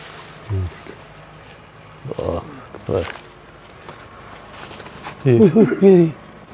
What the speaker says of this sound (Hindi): ये ट्रैक्टर का बहुत ज़्यादा शोर है